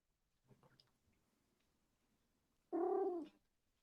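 A house cat lets out one short, fairly loud meow after a stretch of near silence with faint small rustling sounds.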